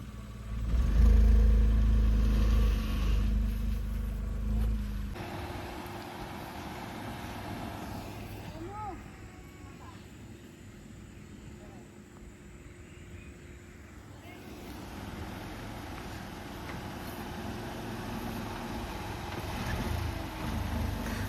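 A family car moving slowly to be parked on a village lane, a low engine rumble that is loud at first, then eases into a quieter steady drone while people speak over it.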